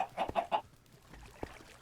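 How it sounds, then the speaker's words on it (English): Chickens clucking in the video game Minecraft, a quick run of three short clucks followed by a pause and a couple of fainter clucks, close and clear. "Some of the chickens seem to be trapped."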